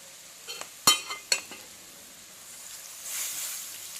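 Mutton fry stirred in a pan gives a few sharp metallic spoon scrapes and clinks against the pan, followed by a soft sizzling hiss, close and without talk.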